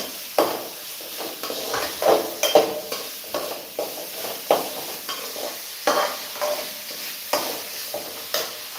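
Ingredients for mint chutney being sautéed in a pan, with repeated stirring scrapes and clinks over a soft steady sizzle at close range and no talking.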